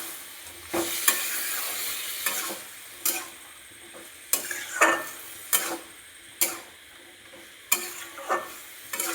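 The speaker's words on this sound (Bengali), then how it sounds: "এখন আমি ঢেলে দিলাম, সবজিটা ঢেলে দিলাম। ভালো করে মাখাতে থাকবো।" Vegetables for a pumpkin curry fry in oil spiced with nigella seeds, panch phoron and black mustard. A steady sizzle runs underneath as a utensil stirs and scrapes in regular knocking strokes, roughly one per second.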